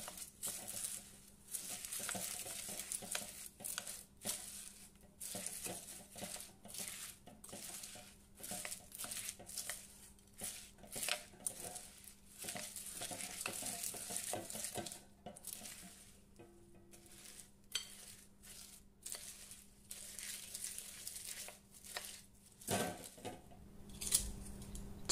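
Cornflakes being stirred and folded through melted chocolate in a bowl, a steady run of crisp crunching and scraping strokes close by, continuous throughout with no talking.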